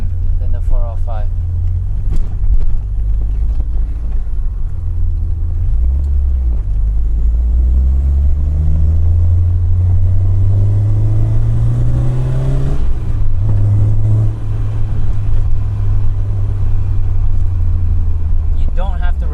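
A Peugeot 205 GTI with a single overhead cam engine drives along. Its low engine rumble stays steady and close, and one rise in revs can be heard in the middle of the clip.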